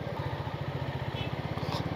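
A motorcycle engine thrums during a ride through the Darjeeling hills, a close, steady low putter with rapid even pulses.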